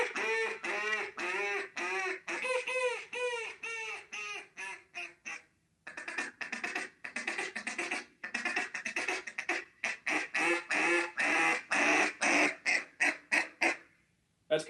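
A hunter's duck call blown to imitate quacking, with a long run of loud, close, nasal quacks in quick rhythmic bursts, a brief pause, then more varied quacks, changing in tone with finger placement.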